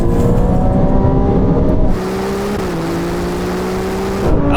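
A Ferrari 296, McLaren 750S, Lamborghini Huracan Performante and Porsche 911 Turbo in a rolling drag race, a loud close engine roar climbing steadily in pitch, dropping briefly at a gear change, then building again.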